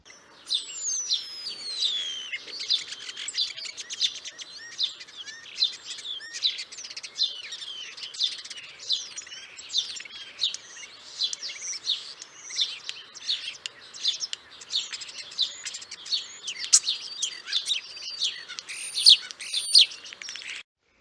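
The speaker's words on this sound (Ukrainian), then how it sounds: "Давайте послухаємо голоси шпаків." Busy starling song fills the air: a continuous stream of whistles, chirps and squeaky trills, fairly close and unbroken throughout.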